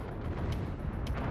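An artillery strike in the mech combat game MechWarrior Online rumbles as a deep, continuous booming roar, with a couple of sharper thuds rising from the low barrage.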